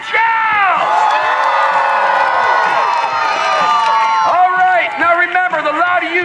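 A crowd at a fair's full-contact jousting show cheers and whoops loudly, with sustained shouting voices that dip briefly and then rise again in excited calls.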